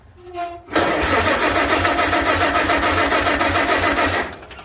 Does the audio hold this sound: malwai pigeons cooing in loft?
no